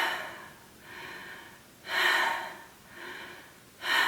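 A singing coach demonstrates poor breathing, taking loud audible gasping inhales through the mouth with the chest collapsing, three breaths in a slow uneven rhythm with quieter exhales between, close to the microphone.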